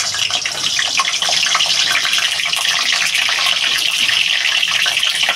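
Quartered pointed gourd (potol) pieces going into a hot pan for mustard potol, giving a loud, continuous crackling sizzle that stays even throughout, with no voices.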